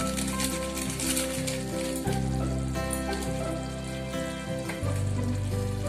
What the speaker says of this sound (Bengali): একটু নেড়ে দেব, নেড়ে দিয়ে নামিয়ে নেব।